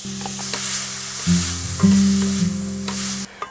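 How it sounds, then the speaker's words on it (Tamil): Chopped tomatoes sizzle and fry loudly in a hot pan with spices and curry leaves for a chapati gravy, a steady crackling hiss that jumps as more pieces drop in, with brief stirring, and no voices. "இப்போ நான் தக்காளியை சேர்த்துக்கிறேன்."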